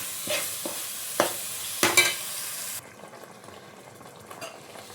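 Tamarind water goes into a sizzling Kerala-style fish curry: a few sharp stirring clicks over a bright hiss, then the sizzle abruptly quiets to a low, steady simmer as the liquid hits the pan.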